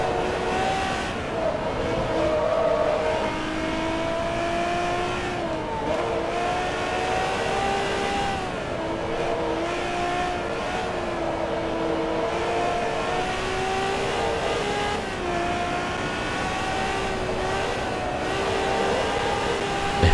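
Ferrari F50 engine in Forza Motorsport 2 revving steadily and loudly for twenty seconds, pitch climbing and dipping through gear changes with a constant close-up drone.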